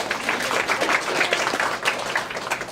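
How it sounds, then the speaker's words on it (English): Audience applause at an OT orientation boot camp, a steady crowd of close, dense clapping lasting the full stretch without a break. "Give me a round of applause."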